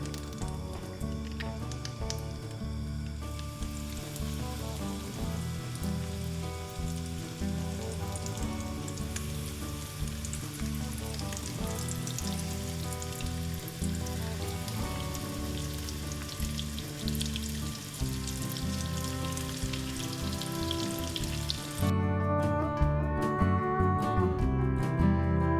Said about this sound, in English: I'm going to add the chicken pieces with the crumbs on it now in the frying pan.